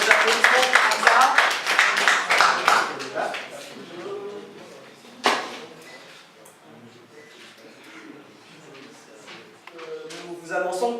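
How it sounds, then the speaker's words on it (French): Audience clapping for a singer at a talent show, a burst of close, scattered applause in the first few seconds that fades into murmuring voices and a single sharp knock. "Alors, des applaudissements pour ça."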